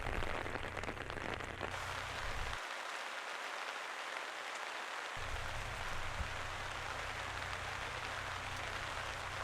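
Steady rain hisses over a wooded disc golf course during a women's tournament, a dense, even wash of drops that continues without pause for the whole stretch.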